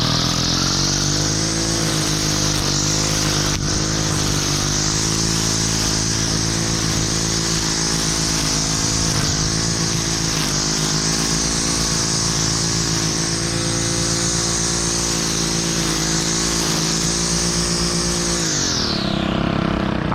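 A lawn mower runs continuously while cutting a lawn, a loud, steady engine drone with a clear buzzing hum that holds for most of the stretch before dropping off sharply near the end.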